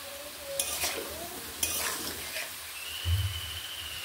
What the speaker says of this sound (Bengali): একটু লাল লাল করে ভেজে নিলাম। আলুগুলো প্রায় ভাজা হয়ে গেছে।